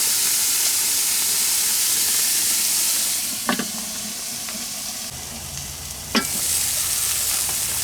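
A burger patty sizzles steadily in a pan at a campsite, constant loud frying hiss with a couple of sharp scraping stirs or pokes near the end.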